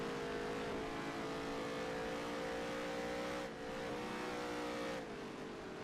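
Race car engine in the NASCAR Heat 3 video game, a sustained droning engine note holding steady pitch with slight shifts as it accelerates, continuous and moderately loud without talk.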